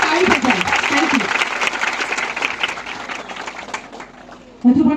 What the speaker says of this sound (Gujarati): પણ જોરદાર તાળી થઈ જાય.